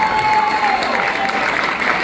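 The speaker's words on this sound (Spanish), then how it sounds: "aplauso para las trompetas y los trombones" Audience applause for a band's trumpets and trombones at a live son performance, steady dense clapping filling the whole moment, loud and close.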